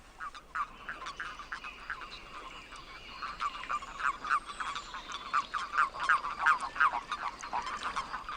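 Frogs at night stir the water and make repeated mouth clicks during a mating scramble around a single female; a dense chorus of rapid clicking pulses builds steadily louder and busier toward the end.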